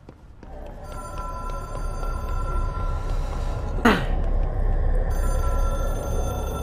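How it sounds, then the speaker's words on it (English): A smartphone rings in the video game Control, its tonal chime steady and moderately loud over a dense ambient game bed, with a brief rising sweep partway through. "Hey, let's pick up my phone."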